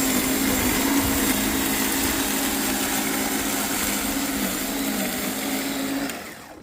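A battery-powered scarifier and dethatcher runs steadily with a whirring motor hum and a constant broadband rattle of tines in soil, loud and close, easing off as it cuts out near the end.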